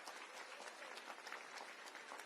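Applause from an audience at a closing celebration honoring award winners, a quiet, steady wash of many hands clapping throughout, heard from a distance.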